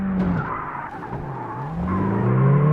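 A car in the open-world horror driving game Beware skids and swerves, its tires squealing in sliding pitch bends over a steady engine drone, loud and close throughout.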